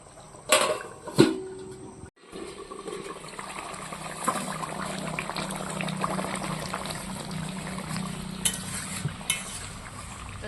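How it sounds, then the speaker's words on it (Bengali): A katla fish curry with spices and lemon juice bubbles in a pan, a steady low simmering hiss after a couple of clanks of utensil and lid near the start, close and continuous. "মাছটা দিয়ে তো দেওয়ার পরে দেখুন ফুটে উঠেছে"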